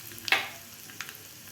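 A pinch of asafoetida hits hot oil for a tadka, with the gas switched off, giving one brief, sharp sizzle burst that fades quickly, followed by a faint crackle.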